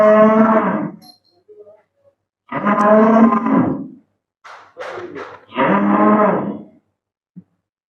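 A large dairy cow moos loudly several times in long, deep bellows separated by short pauses, close by.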